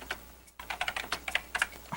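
Hard, rapid typing on a computer keyboard: clusters of sharp keystrokes close up, in uneven bursts with a brief pause, loud and clear with no talk over them.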